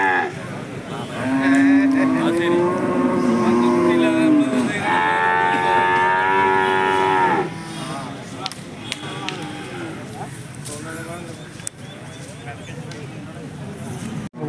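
Cattle at Chattipparamba market low in long, loud drawn-out moos, close by, followed by a busier stretch of crowd and market noise with people talking.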